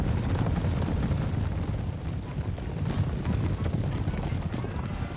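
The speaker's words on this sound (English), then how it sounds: "Karlmak, heavy cuirassiers to charge the 12th Guard Dragoons" Heavy cuirassier cavalry charging in the video game Napoleon: Total War, a thick rumbling mass of hoofbeats and battle din, loud and continuous throughout.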